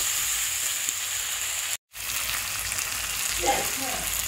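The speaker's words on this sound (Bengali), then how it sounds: "আমি ভালো করে আলুর সাথে এটা কষিয়ে নিচ্ছি" Loud, continuous sizzling rises from potatoes being sautéed with cumin, ginger and stone-ground green chilli paste. The sizzle cuts out for a split second, then resumes with faint stirring scrapes near the end.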